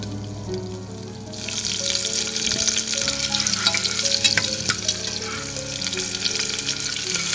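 Sliced onions fry with dried chili and bay leaves in hot oil, a loud, continuous sizzle with occasional stirring clatter that swells after the first second and holds steady.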